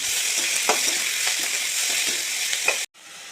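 Steady hissing sizzle of onions, tomatoes and curry leaves frying in hot oil for a squid gravy, with a few soft stirring clinks, cutting off abruptly near the end.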